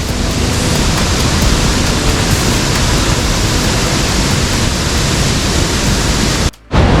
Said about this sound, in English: pulled over so that we can check out this little waterfall